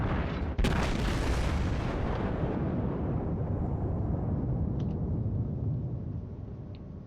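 Ship guns fire in a naval battle video game: a sharp blast, then a long rumbling boom that slowly fades. Faint clicks sound later, and no one speaks.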